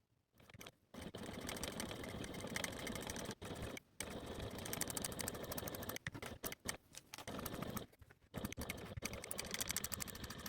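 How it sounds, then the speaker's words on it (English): A sewing machine top stitches along the long raw edges of a faux leather notebook cover accent piece, running in steady close bursts broken by a few short stops. "I want to take this back to the machine and top stitch at a 1/8 seam allowance along both long raw edges"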